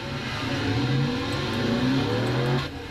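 A race car engine from a racing video game, a Castrol GTX Cup Series race at Food City 500, drones and revs steadily with rising and falling pitch, then drops off sharply near the end.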